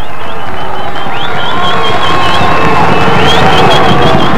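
A high school football crowd roars in loud, sustained cheers and shouts, with whistles and voices layered into a dense, continuous wall of noise.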